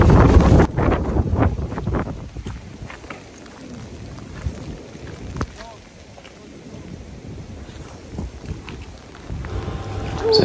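Strong wind blasts across the microphone during snowfall in Tainai, Japan, a loud rumbling roar that eases in the middle and surges again at the end, with faint voices underneath.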